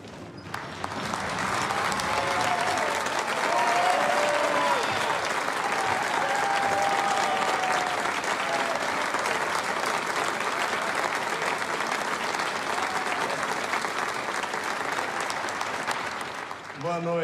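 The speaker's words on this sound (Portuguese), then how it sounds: "eu peço para vocês guardarem o aplauso de vocês para quem vai entrar nesse palco daqui a pouco" An audience applauding before a music-themed film screening at a venue, dense sustained clapping from many hands that fills the room for most of the span.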